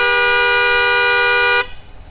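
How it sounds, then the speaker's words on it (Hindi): Aftermarket big horn fitted to a Honda SP 125 BS6 motorcycle blares one long, loud, steady honk close by, then cuts off sharply, leaving a faint background hum. "मैं आपको हॉर्न दिखा दूँ थोड़ा सा परमानेंट बजा के भी"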